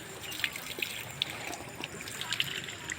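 Water trickles on its own out of a hand pump, a faint continuous dribble with small irregular drips and splashes over a soft background hiss.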